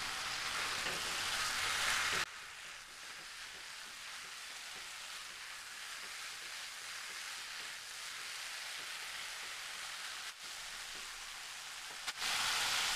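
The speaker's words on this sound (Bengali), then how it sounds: "এটা কিছুক্ষণ নাড়াচাড়া করে নেব" Sponge gourd with moong dal cooks in a pan over a medium-high flame, a soft continuous sizzle that is louder at the start and the end, with faint stirring and no speech.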